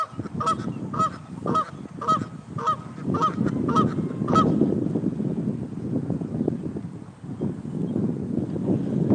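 A flock of geese honks repeatedly in quick succession outdoors, then the calls fade into gusty wind buffeting the microphone.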